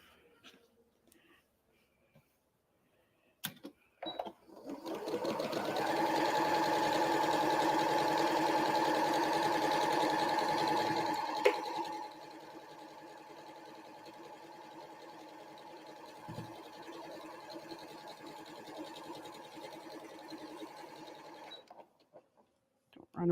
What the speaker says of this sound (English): we'll sew along there